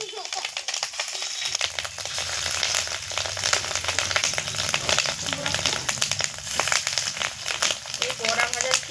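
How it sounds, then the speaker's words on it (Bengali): Fish roe fritters fry in hot oil with a close, steady crackling sizzle that runs throughout, while someone talks over it. "তেল গরম হয়ে গেছে, এবার মাছের ডিমের বড়াগুলোকে আমি এক এক করে ভেজে নেব।"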